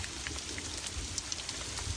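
Freezing cold hail and rain fall steadily outdoors, a dense, even patter of drops striking surfaces, close and continuous.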